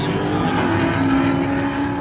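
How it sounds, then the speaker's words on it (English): Race cars run on track in the BMW Endurance Challenge for the Michelin Pilot Challenge, a loud, continuous engine drone close by, with a voice speaking over it. "let's watch some race cars"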